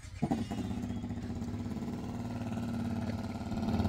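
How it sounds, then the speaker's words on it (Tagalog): A motorcycle engine runs steadily nearby in a British Columbia or Alberta outdoor setting, a continuous mid-pitched idle hum that grows slightly louder toward the end, with no talking. "Motor."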